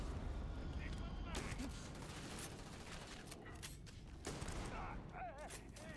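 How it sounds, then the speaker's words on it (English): Shotgun blasts and other gunfire from combat in the video game Starfield, several bursts over a busy, dense background of game noise and effects, with a voice talking. "shotgun's working really well"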